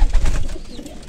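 Kabli pigeons cooing softly up close, a couple of low, throaty coos in quick succession.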